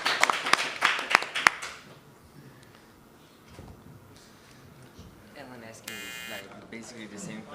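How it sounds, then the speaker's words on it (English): Short burst of loud, sharp clapping from a JuliaCon Global 2025 conference session audience, a handful of distinct claps that quickly stop and give way to people talking. "I'd like to give a round of applause to all of you"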